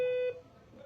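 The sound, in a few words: EPBX telephone system beep confirming call forwarding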